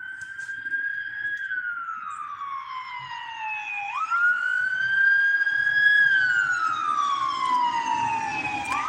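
A wailing ambulance siren in Tillamook, Oregon rises and falls in long sweeping tones, moderately distant, with faint traffic noise beneath.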